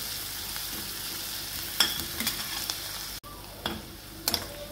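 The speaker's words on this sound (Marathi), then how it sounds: "कांदे छान आपण परतून घेऊ, थोडा गुलबट होऊ देऊ कांदा" Onions and tomatoes sautéing in a pan, a steady broadband sizzle with a few scraping stir strokes and light utensil taps, no talking.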